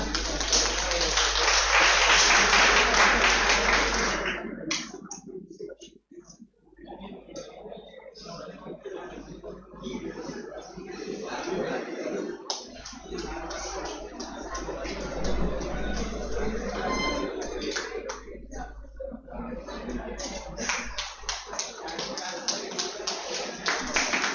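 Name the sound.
audience applause and clapping at hackathon inauguration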